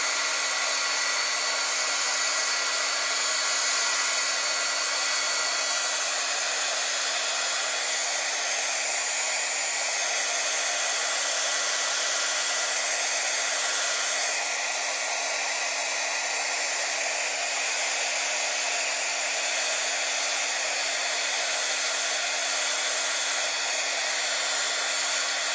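Heat tool blowing hot air onto a die cut of Friendly Plastic, a continuous loud, even whoosh held steadily from start to finish with no voices.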